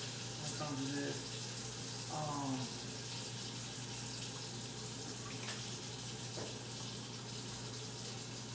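Water runs steadily from a kitchen tap while hands are washed during home meal prep, a continuous close hiss lasting the whole stretch, with brief faint voice sounds early on.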